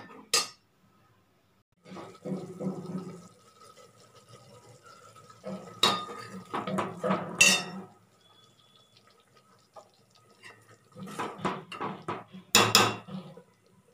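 Turkey berry sambar is stirred in a cooking pot, with close scraping and clinking of a utensil against the metal in separated bursts between quiet gaps and no voices.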